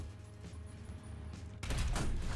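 Gunfire in War Thunder, a dense, continuous rattle of shots that jumps sharply louder partway through and keeps going to the end.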